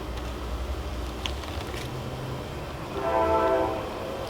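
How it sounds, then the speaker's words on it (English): A train rumbles past at close range, low and steady, and a horn sounds loudly near the end. "About to be a train coming. It's gonna be very loud."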